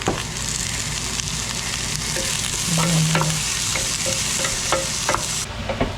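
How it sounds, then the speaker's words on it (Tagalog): Food sautéing and being stirred in a hot frying pan, with a loud, continuous sizzle and scraping stir strokes throughout, close and without talk. "Gigisa ko muna."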